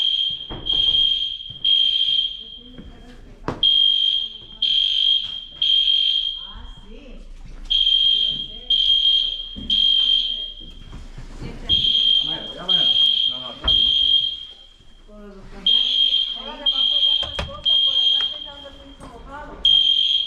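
A building fire alarm sounds during a test, giving loud piercing high beeps in repeated groups of three or four with short gaps between them, while people talk nearby underneath.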